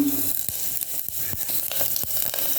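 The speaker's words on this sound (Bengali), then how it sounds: "তেলটা গরম হয়ে গেলে এর মধ্যে দিয়ে দেবো একটু সামান্য জিরে আর সামান্য একটু পাঁচ ফোড়ন" Cumin seeds and panch phoron sizzle in hot oil, a soft continuous frying hiss close by, broken by small sharp crackles and pops.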